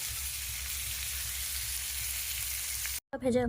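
Potato pieces fry in oil with a loud, even, continuous sizzle that cuts off abruptly near the end, followed by a brief moment of a voice speaking.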